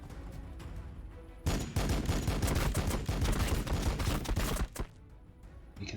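Units in Warhammer 40k Battlesector open fire: after a quiet lead-in, a loud sustained volley of rapid gunshots breaks out and hammers on for about three seconds before cutting off, with one last shot trailing.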